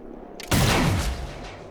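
A single loud gunshot blast at an Acolyte in XCOM: Chimera Squad, erupting abruptly after a brief quiet lead-in and ringing out with a rumbling decay.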